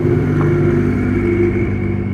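A Ferrari engine roars loudly and close, accelerating hard with a steady, dense mechanical growl over a couple of seconds.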